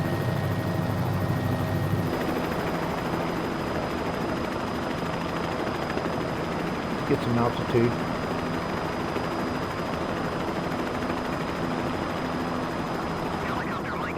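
A helicopter flies steadily over Key West, Florida, its engine and rotor giving a constant, loud drone heard from inside the cabin, while a voice speaks briefly over it.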